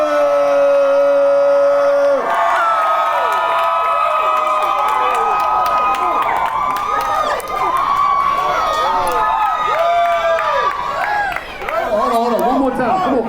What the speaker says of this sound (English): Y'all better keep howling.